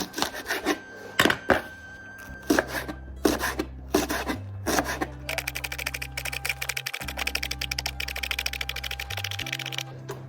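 A knife chops green onions quickly on a cutting board, first in a few separate strokes, then a fast steady run of taps, with a low background hum.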